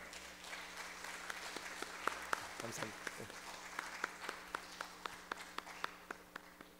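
Faint, thin applause of scattered claps in a steady rhythm from a church congregation, with a short spoken phrase in Korean in the middle.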